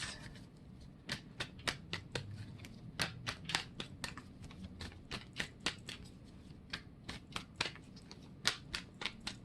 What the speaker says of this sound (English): Pull some tarot cards.